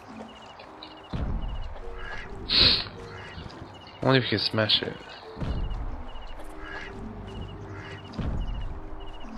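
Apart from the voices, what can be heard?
goose honking in video game Herdy Gerdy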